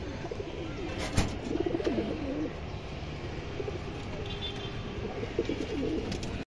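Pigeons at a pigeon seller's coo softly in a few short rolling bursts, fairly faint against steady background noise.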